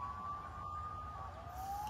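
A police siren wails faintly in the distance, its pitch slowly sliding, over a low background rumble, near a park in Kiryat Yovel, Jerusalem.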